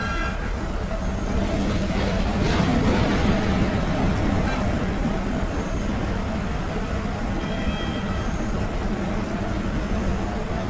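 A car pulls into a nearby petrol pump and up to the fuel dispenser, a steady unbroken wash of engine and road noise throughout with faint tonal traces like a distant horn.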